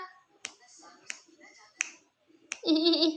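Crisp finger snaps sound close by to draw a three-month-old baby's gaze, five evenly spaced clicks with soft murmuring between them and a person's voice after the last.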